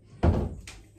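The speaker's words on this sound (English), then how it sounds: "why is the door opening?" An indoor door bumps open with a single solid thunk, followed by a lighter knock as it swings, close by and brief.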